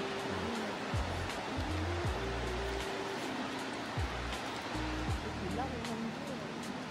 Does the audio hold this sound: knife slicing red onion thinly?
no